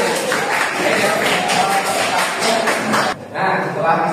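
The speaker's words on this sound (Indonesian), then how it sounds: "oke, tepuk tangan semuanya" Classroom students clap their hands together in a lively, dense burst of claps, briefly dropping out near the end before picking up again, with voices mixed in.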